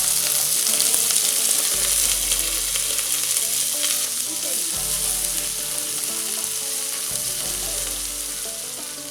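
Cleaned crabs sizzle loudly in hot oil with crushed, sautéed garlic for a Konkani crab curry, a steady close frying hiss with occasional stirring scrapes throughout and no talking.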